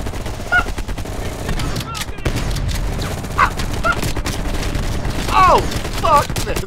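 Call of Duty Black Ops Cold War firefight with rapid automatic gunfire rattling in bursts, loud and close, over a dense battle bed with short voice calls and a dog-like whine.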